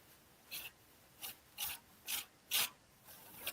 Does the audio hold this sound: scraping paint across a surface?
yes